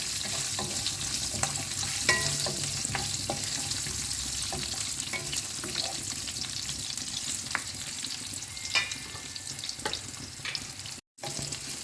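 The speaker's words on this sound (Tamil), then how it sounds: "இந்த லைட்டாக வதக்கிக்குங்க, போதும்." Garlic and onion sautéing in oil as the base for a fish curry, a continuous close sizzle broken by occasional scrapes and stirring clatter, with no voices.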